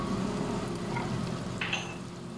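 Onions frying in a pan, a soft, steady sizzle with faint crackles that holds at low, even volume throughout.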